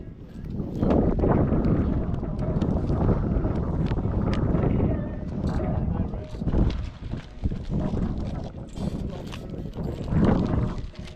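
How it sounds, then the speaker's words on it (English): Gusty wind buffets the microphone at an outdoor flea market, a loud rumbling roar that rises and falls under people talking throughout. "the wind is so bad right here"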